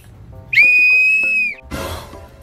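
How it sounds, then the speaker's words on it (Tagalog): A toy whistle is blown once in a single loud, steady shrill tone lasting about a second, followed by a brief burst of rustling noise. "Susubukan ko yung pito."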